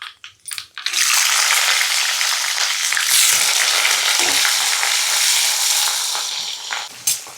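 Chopped onion and shahjeera sizzle loudly in a hot pan for paneer curry, a dense continuous frying hiss right up close that starts after a few brief clatters and runs steadily throughout.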